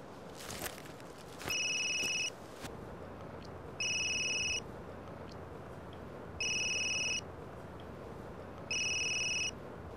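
A telephone rings four times in evenly spaced, bright two-tone bursts, heard over a steady wash of heavy rain during a stormy night scene in a Filipino drama film, with no one speaking.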